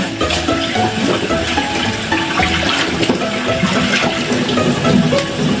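Steady running filtered water splashes and trickles continuously, close by, like rinsing under a tap, with faint clinks mixed in.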